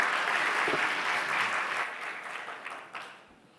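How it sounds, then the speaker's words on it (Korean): Applause from a church young adults' Sunday worship congregation welcoming a speaker to the front, a steady full clapping that fades gradually toward the end. "우리 그래도 박수로 한번 또 환영합니다."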